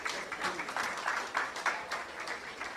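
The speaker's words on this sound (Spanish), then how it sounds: "un fuerte aplauso" Audience applause at a closing event for a project on violence against women, a steady wash of many hands clapping with faint voices mixed in, moderately loud throughout.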